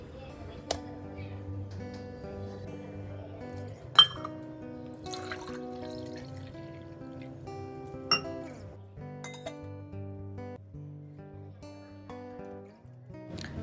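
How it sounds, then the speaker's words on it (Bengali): Soaked fenugreek water with sugar candy is poured in a quiet kitchen, with a soft steady liquid trickle, a few sharp glass clinks spaced apart, and a faint background hum. "রাতে অমিত আমার জন্য একটু মিছরি আর মেথির জল ভিজিয়ে রেখেছিল, সেটাই এখন উঠে খেয়ে নেব"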